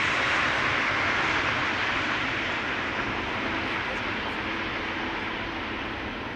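A landing airliner at Amsterdam Schiphol, touching down without reverse thrust, gives a steady broadband engine and wind roar that fades slowly over several seconds, heard from a distance.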